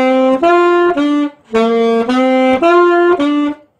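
Saxophone playing the B-section phrase of a song, reaching a high D: a run of clear, reedy sustained notes in two short groups with a brief breath gap between them, loud and close, with no voices.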